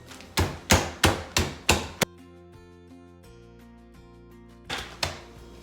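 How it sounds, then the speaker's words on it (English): A mallet pounds food flat inside a Ziploc bag: five loud, evenly spaced heavy whacks close by, a pause, then two more blows. "put it in a Ziploc bag, get it nice and flat, and then I'm going to give it a few whacks"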